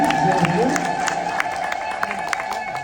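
A church congregation ululates in praise at an Easter service, a dense, sustained chorus of high trilling voices mixed with crowd noise and scattered claps, loud and close throughout.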